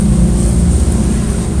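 A 2001 Dodge Ram pickup rattles from a loose hood while driving, its clatter blended into a loud, continuous drone of engine and road noise inside the cab.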